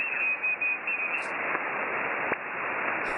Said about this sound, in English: With a pile up on 17 meters there, they're going crazy. Sounds like CB radio.